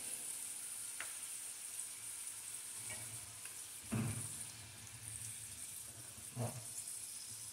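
Potatoes fry in a pan with a continuous soft sizzle, broken by a few louder clatters of stirring, heard close with no talking.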